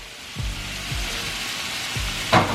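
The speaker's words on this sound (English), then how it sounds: "what I have here is these beef tips already starting to cook" Beef tips sizzle in a pan as they start cooking, a loud steady frying hiss broken by a few low thumps and one sharp scrape near the end, with no voices.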